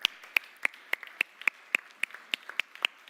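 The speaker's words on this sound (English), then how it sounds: "So also a big applause for them." Sparse, spaced claps ring out at a graduation ceremony for a startup accelerator program in Luxembourg, about a dozen sharp individual hand claps at a steady, loose rhythm, fairly close and with no talking over them.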